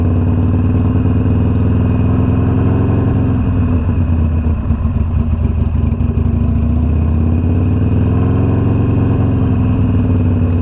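Harley-Davidson Iron 883 motorcycle engine revving while parked, a loud close rumbling V-twin throb that swells and settles, with clattery pulses mid-way through.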